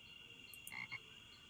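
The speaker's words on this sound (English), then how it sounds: "Okay, we're back to the frogs." Frogs croak in the Amerzone adventure game: two or three quick, raspy calls around the middle, clear against a faint steady ambient hum, with no voices.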